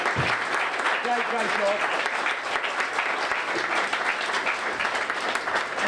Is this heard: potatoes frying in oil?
no